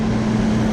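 A big parked truck's engine idles with a steady, low droning hum, continuous and fairly loud for under a second, with no talk over it.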